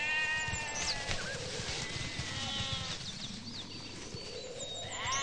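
Goats bleating in a rural farm setting, several calls rising and falling over a steady background, moderately close and continuous throughout.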